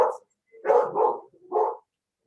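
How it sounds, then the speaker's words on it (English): A worked-up dog barks in a quick series of three or four loud, close barks during a Zoom call, with silence in between. "My dog is really worked up now."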